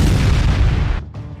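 Heavy bombardment in the Israel–Lebanon war between Hezbollah and Israel: a loud, sustained rumbling boom that drops away briefly near the end before the rumble resumes.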